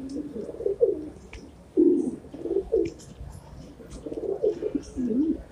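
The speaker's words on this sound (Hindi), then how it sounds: "ये वाला है सबसे बेस्ट कबूतर" Racing pigeons cooing in a loft, soft low throaty coos in repeated bursts with short gaps, fairly close, with faint rustling and chirps in the background.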